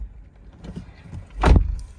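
A Toyota RAV4 Hybrid SE (2023) door is opened by pulling the handle while locked, giving a soft click then a loud, close unlatching thunk as the door swings open, with no talking.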